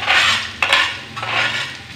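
Garlic and candlenut spice paste frying in a pan, heard as a steady broad sizzle with a few scraping stirs and utensil clinks against the pan, close and fairly loud with no talk.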